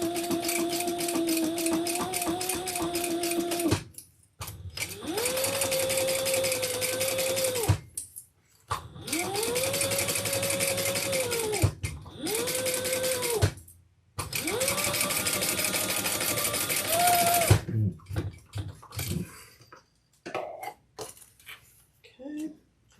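A sewing machine stitches a seam on a leather wristlet crossbody bag, running in several steady bursts of a few seconds each with short pauses between them, close and clear.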